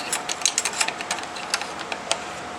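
Metal parts of an AR-style rifle clicking and sliding as the bolt is pushed forward and the two recoil springs are reinserted, giving a series of sharp, close, irregular mechanical clicks and scrapes with no talk.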